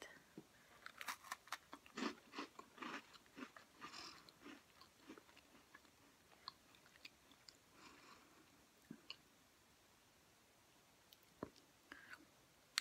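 Quiet, close crunching and chewing of a cookie, with crisp bites clustered at the start and then softer, sparser mouth sounds fading toward silence.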